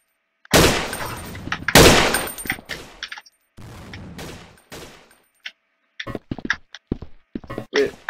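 Gunfire from the video game Blockade classic during a sniper battle: loud, sharp shots ring out in irregular bursts with ringing decays, followed by quicker clusters of shots and clicks.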